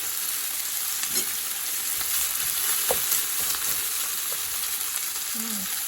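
Beef stir fry sizzles steadily in a hot pan while the meat is spread out, a continuous bright frying hiss with a few soft stirring scrapes and no talking.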